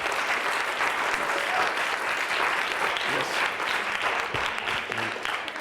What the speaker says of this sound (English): That was an applause line